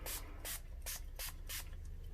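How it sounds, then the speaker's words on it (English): Water is misted onto paper from a spray bottle in five quick, evenly spaced hissing bursts, close and quiet with nothing else around them. "So I am going to go ahead and spray my paper,"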